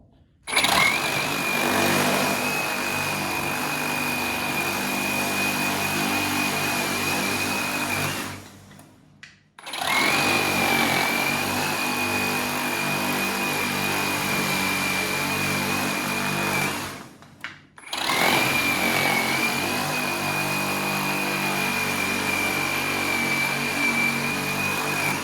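Three long, steady bursts of a Metabo HPT 36V reciprocating saw cutting with orbital action on, loud and close, each run holding a constant whine with brief pauses between, no voices.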